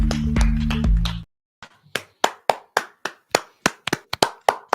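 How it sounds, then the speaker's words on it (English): A button triggers a generic applause sound effect: a short loud musical sting, a brief pause, then a steady run of sharp, evenly spaced hand claps, clear and close with no voices. "I got to get the Gary applause, generic applause button."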